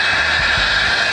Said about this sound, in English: it's just the noise it makes when it creates a vacuum